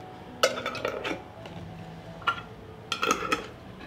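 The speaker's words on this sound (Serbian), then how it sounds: "Zatvaramo tegle sa čistim i novim poklopcima." Glass jars are closed with clean new lids, a scattering of close, light metallic clinks and taps in short clusters against a quiet room.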